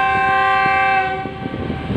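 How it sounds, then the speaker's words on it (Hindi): The green Marvi train at Hyderabad railway station, bound for Karachi, sounds a sustained horn over steady engine drone, with wheel clicks and clanks emerging as the horn fades, close and loud. "ये अभी ट्रेन आस्ते आस्ते कराची जा रही है"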